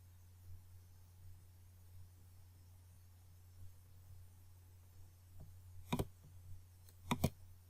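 Computer mouse buttons clicking on a Windows 10 PC, a couple of faint isolated clicks early on and then sharp double clicks near the end over a steady low electrical hum, with no talking.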